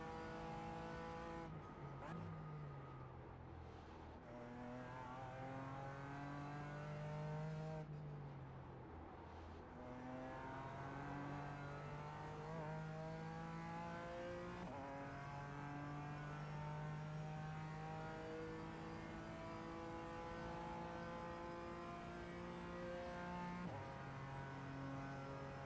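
A BMW M4 GT4 race car in iRacing drives the Nürburgring's Schumacher S's on cold tires, its engine note sweeping up and down through gear changes, loud and continuous, with a sharp drop and re-rise near the end.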